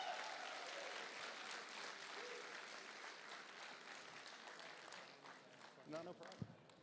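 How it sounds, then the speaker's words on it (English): Applause from a concert audience at a charity rock show, a steady dense wash of clapping recognizing children who took part, fading slightly toward the end with a few louder bursts and some voices nearby. "It'd be nice if we could give them a round of applause"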